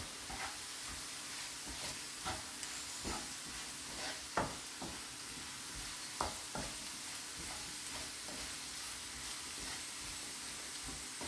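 Garlic pickle with chili powder being stirred in a pan, a steady sizzle under repeated scraping strokes of the spoon at an uneven rhythm, close and fairly quiet, with no voices.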